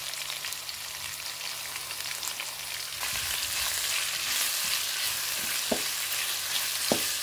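Mushrooms and green peas sauté in hot oil in a pan for vegetable lemon rice, giving a steady close sizzle that swells louder midway, with a few sharp scrapes of a spoon against the pan.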